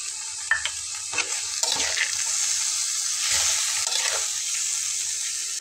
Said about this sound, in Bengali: মশলাটাতে রয়েছে আদা, রসুন, জিরা, সব একবারে খুব ভালো করে নেড়ে চেড়ে কষাবো